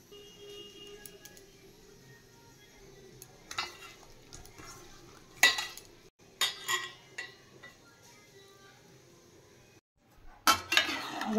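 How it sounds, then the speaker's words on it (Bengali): Hands rub turmeric and salt into pieces of katla fish, making soft, wet squelching and scraping in intermittent bursts with occasional clinks of a dish, close and moderately loud. "এবার হলুদ নুনটা মাখিয়ে নিই।"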